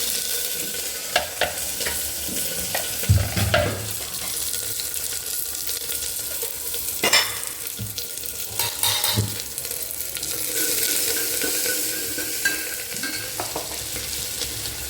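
Mustard seeds, shallots, green chillies and two dried red chillies fry in hot oil for a South Indian tempering, with a constant close sizzle and some irregular stirring clatter in the pan.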